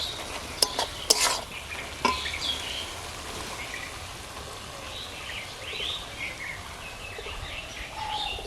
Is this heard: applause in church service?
no